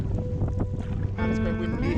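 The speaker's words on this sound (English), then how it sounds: "it's quite windy" Gusty wind buffeting the microphone on a boat in pouring rain in Sweden, a steady loud rush with low rumble, while a motor-like tonal hum rises partway through.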